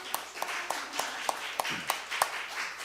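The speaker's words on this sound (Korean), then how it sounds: "우리 서로 격려의 박수하겠습니다" Church congregation clapping together in a steady, even rhythm, about ten distinct claps spaced roughly a third of a second apart, moderately close over a soft room murmur.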